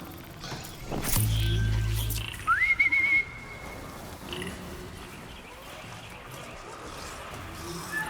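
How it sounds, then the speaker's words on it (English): A short rising whistle to lure robotic striders in Horizon Zero Dawn Remastered, one clear tone sliding upward and holding briefly, heard near amid faint ambient game noise and a few muffled footsteps. "So I'll just try to whistle them over so I can just get it straight off of the strider."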